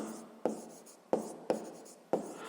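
A pen scratches on paper in four strokes as a math problem is written down. The scratching is close and moderately quiet, and each stroke starts sharply and then fades.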